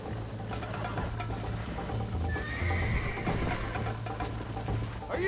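Horse hooves clip-clop at a gallop in the Red Dead Redemption 2 video game, with whinnies and snorts over a steady low rumble of riding ambience; the hoofbeats stay close and continuous throughout.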